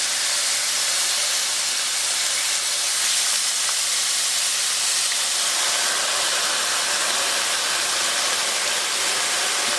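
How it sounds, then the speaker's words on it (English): Soy sauce poured into a hot pan while cooking fried rice gives a steady, loud, bright sizzling hiss that holds evenly throughout with no pauses. "And now I'm gonna add some soy sauce."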